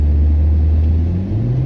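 A Mitsubishi Lancer 1.6 rolls slowly over a speed bump, producing a close, loud low engine drone with a rising pitch near the end. The clip is short and has no voices.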